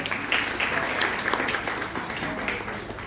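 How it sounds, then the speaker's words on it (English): Applause from an audience at a talk, honoring a young couple; a dense, steady wash of clapping that stays fairly loud for the whole few seconds, with no speech over it. "a big round of applause for them"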